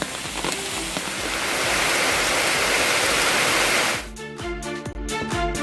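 Monsoon-swollen water gushes down Courtallam main falls in Tenkasi as a loud, dense, steady roar for about four seconds, then cuts abruptly to rhythmic music.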